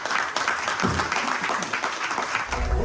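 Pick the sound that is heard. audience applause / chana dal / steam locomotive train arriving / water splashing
audience applause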